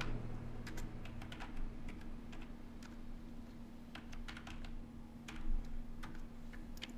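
Steady typing on a computer keyboard, quick uneven key clicks scattered across the whole stretch over a constant low electrical hum, fairly quiet and close, with no talking.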